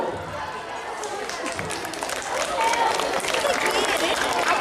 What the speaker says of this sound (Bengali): ওনাকে আমরা করতালির মাধ্যমে অভিনন্দন জানাবো